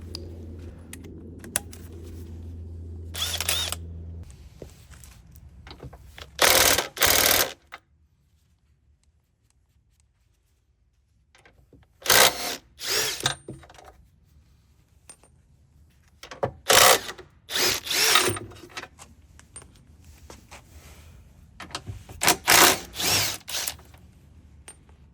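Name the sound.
impact drill undoing 19mm bolts on Audi Q7 crash bar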